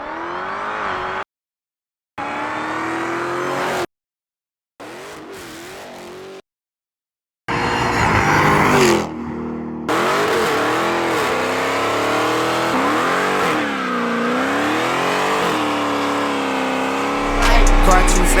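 A Dodge Challenger Hellcat Widebody with new mods revs and accelerates hard, its engine roaring loud and close with rising and falling pitch through gear changes, broken by short gaps, and a voice talks over part of it.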